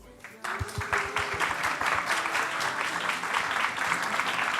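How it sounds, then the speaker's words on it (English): Audience applause at a Game Days 2023 presentation breaks out abruptly after a brief pause, steady dense clapping from a sizable crowd that holds at an even level to the end. "And a big applause."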